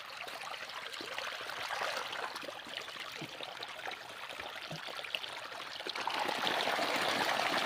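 Water flows steadily from a motor pump into an onion field at dawn, a continuous gurgling, splashing trickle heard close, growing slightly louder toward the end.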